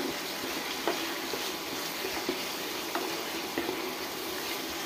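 Potatoes being stirred and fried in a pan for a bottle-gourd-seed stir-fry, giving a steady, fairly loud sizzle with a few soft scrapes or clinks at scattered moments, no voices.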